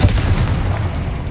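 A Confringo fire spell blast in Hogwarts Legacy, a loud, dense low boom that holds steady and rumbles for over a second with no pause.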